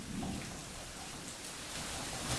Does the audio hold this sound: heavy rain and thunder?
yes